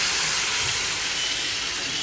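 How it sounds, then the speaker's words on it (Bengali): Chicken meat hits hot spice masala in a pan, giving a loud, continuous broadband hiss of sizzling that barely varies across the short stretch, with no voices. "এখন আমি মাংসটা ঢেলে দিব।"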